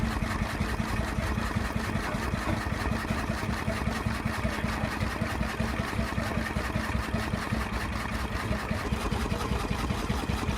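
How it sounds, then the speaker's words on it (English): A restored early twentieth-century hot bulb engine runs steadily, a dense continuous mechanical chugging with fast even pulses, loud and close with no pauses. "Their distinctive operation relied on a heated bulb to ignite the fuel, producing a slow, rhythmic chugging sound"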